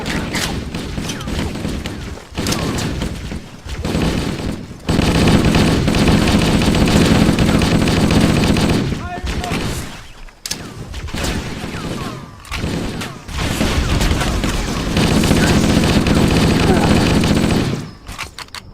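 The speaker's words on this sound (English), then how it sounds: "Firing! Rifle!" Rifle fire in Halo: Combat Evolved comes in long, loud automatic bursts separated by brief pauses, and voices speak over parts of it.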